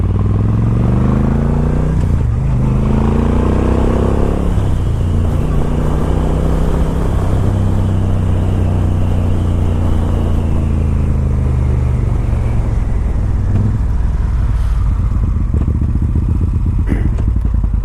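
A 2013 Moto Guzzi California motorcycle on a test ride, its engine droning loud and close throughout, rising and falling in pitch through gear changes, with road rumble and wind under it.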